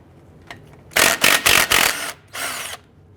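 Power tool, likely a drill or impact driver on an 8mm socket, loosening a bolt during harmonic balancer work on a 1999-2004 Jeep Grand Cherokee 4.7L V8: four quick close bursts, then a longer run after a short pause.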